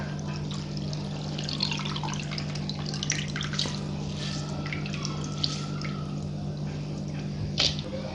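Hands squeezing water out of grated potatoes, giving soft wet squishes and drips with scattered splashes, close and fairly quiet over a low steady hum.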